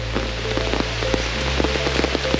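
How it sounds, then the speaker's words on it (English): Steady rain falls on a forest hiking trail, a dense close patter of drops with sharper individual hits scattered throughout, continuous with no voices. "I just wish there would be a break in the rain"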